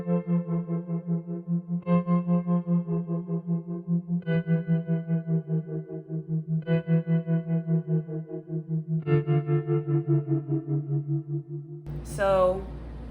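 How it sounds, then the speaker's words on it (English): Ambient guitar preset 'Clouds and Sun' from Native Instruments Fables, soloed, with a wavering chorus-like tone and sustained chords that change every couple of seconds, ending in a brief rising swoosh. "an ambient guitar"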